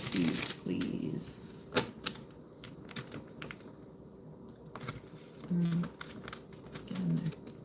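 Tarot cards are shuffled in quick bursts of crisp riffling and sharp clicking taps, with short spells of a voice between them.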